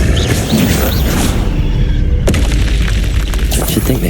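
A Depulso force spell fired in Hogwarts Legacy, a loud booming blast with a sharp crack near the middle, over a continuous dense rumble of game effects.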